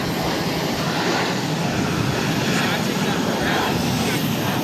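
An Iberia airliner roars steadily at Boston Logan airport, a broad continuous jet rumble heard from a distance across the field.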